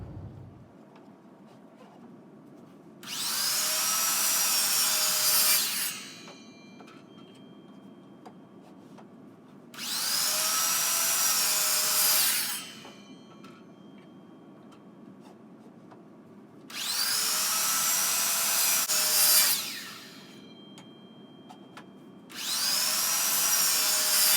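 Red oak pieces for beer steins being cut on a saw against a stop block, four loud bursts of a few seconds each, separated by quieter pauses with a low motor hum, no talking.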